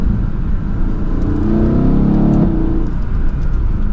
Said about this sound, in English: Man, that was like the littlest rev ever.